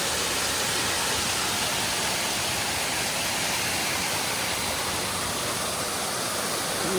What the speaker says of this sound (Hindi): ये पानी का बहाव इधर से आ रहा है,